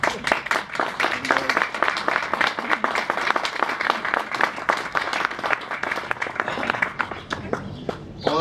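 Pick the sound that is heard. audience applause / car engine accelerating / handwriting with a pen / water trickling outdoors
audience applause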